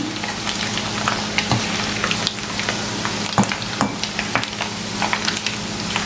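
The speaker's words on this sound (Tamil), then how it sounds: "4 நிமிஷம் மீடியம் ஹீட்டில் வச்சு பொரிச்சோன்றிருக்கேன்" Steady sizzling of sprats (dried anchovy) frying in hot oil over medium heat, with scattered pops and crackles throughout, close and continuous with no talking.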